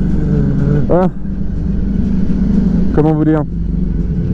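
A motorcycle ridden on the road with traction control switched off drones steadily close by, with two short rising engine revs cutting through while a rider talks over it.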